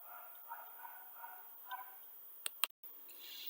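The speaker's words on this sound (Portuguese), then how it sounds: "pode ser que de vez em quando vocês ouçam alguns latidos aí, é a cachorrada da vizinhança" Neighbourhood dogs bark faintly in the distance, a few scattered yaps, followed by a brief close clatter.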